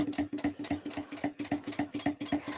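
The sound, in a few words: sewing machine stitching a bag seam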